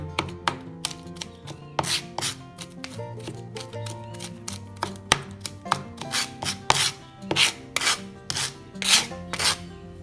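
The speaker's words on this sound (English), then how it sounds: "So I'm just gonna carry on chopping." A knife chops ginger and garlic rapidly on a cutting board, sharp repeated taps in quick irregular bursts, close and clear over a faint background hum.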